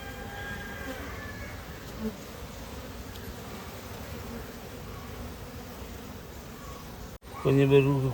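Honeybees being moved into a hive box, a steady low insect buzz droning close by for several seconds, with faint voices in the background and a louder burst of sound near the end.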